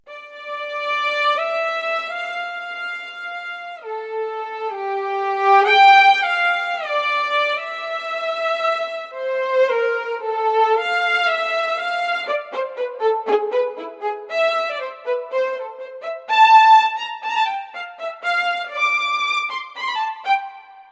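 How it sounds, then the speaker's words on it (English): SWAM violin section virtual instrument by Audio Modeling playing a sustained, expressive orchestral melody, with bowed swells, slides and quick runs, alone and fairly loud. "This is SWAM violin section, and it sounds like this."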